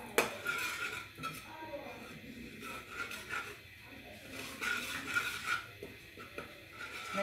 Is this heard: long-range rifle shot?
no